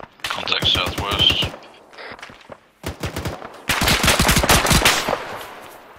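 Sharp bursts of rapid automatic gunfire crackle close by during a combat contact, several rattling strings of shots with brief pauses between them.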